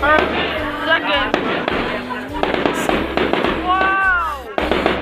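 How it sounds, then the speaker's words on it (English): Loud New Year's firework explosions pop in quick succession, roughly one per second, while people shout and cheer over the booms. "One firework per second."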